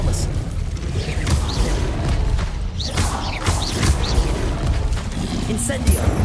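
Disarming spells cast repeatedly in Hogwarts Legacy, a string of whooshing magical bursts and mechanical clatter over a steady rumble, with a voice shouting between casts.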